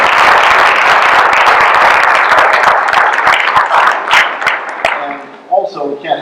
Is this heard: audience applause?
yes